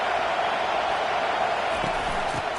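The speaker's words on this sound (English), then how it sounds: "This crowd bringing the energy and noise early." Stadium crowd roaring steadily at a college football game in the SEC, a dense, continuous wash of cheering and noise filling the whole clip with no break.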